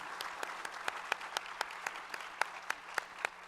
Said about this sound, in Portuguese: encerro pedindo uma salva de palmas para os nossos painelistas